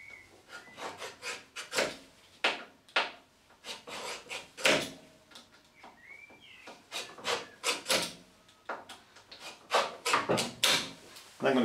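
Scribing tool drawn repeatedly across the underside of an acrylic sheet, a series of short rasping scrapes in an uneven rhythm, close and moderately loud with no talk.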